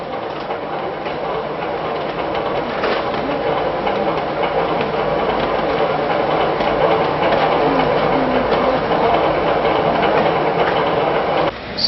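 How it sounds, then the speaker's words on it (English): A well mixer runs on a ZCW-120 roof tile making machine during installation, giving a steady, loud mechanical rumble with rattling and clanking that holds without a break, with no talk over it. "Start the mixer. The well mixer. Start the well mixer."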